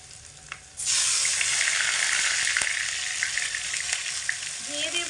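Onion and green chilli paste hits hot oil in a pan with a sudden loud sizzle that holds steady and close, with a faint voice near the end.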